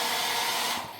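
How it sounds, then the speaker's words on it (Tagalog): A hotel room hair dryer at The Manor, Camp John Hay in Baguio, blows with a steady broadband whoosh close by, then winds down and fades near the end. "May blower."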